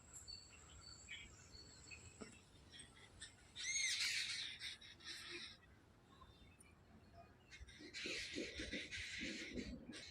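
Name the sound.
birds calling in park, sparrows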